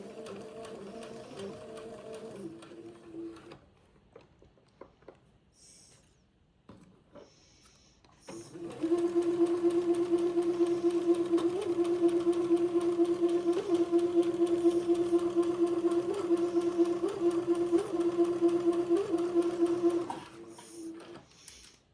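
Sewing machine stitching a sundress back strap seam at a slow, steady pace, a sustained motor hum running for about twelve seconds after brief start-and-stop bursts, close and fairly loud.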